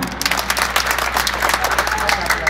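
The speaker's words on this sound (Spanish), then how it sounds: "Un aplauso para la segunda pareja." A crowd at a village contest in San Felipe Zihualtepec, Oaxaca, applauds a competing couple with dense, energetic clapping that fills the moment, and voices can be heard mixed in.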